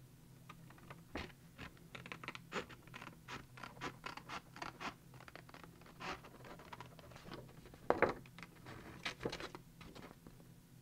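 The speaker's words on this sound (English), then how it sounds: "So I'm cutting this out" Scissors cutting out a painted acrylic paper page for an art journal: quiet, uneven snips and paper rustles, close and soft, with one louder crinkling snip near the end and no talking.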